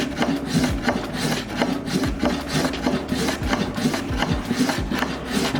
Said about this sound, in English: We're going to start to take off this lower bevel edge and start to create the radius up into this